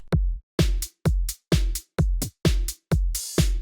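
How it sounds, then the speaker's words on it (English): A sparse tech house drum pattern, without kick or bass, repeats eight crisp hits at an even pace, each short and punchy with a brief noisy tail, with no deep bass underneath. "And the drums without the kick and the bass sound like this."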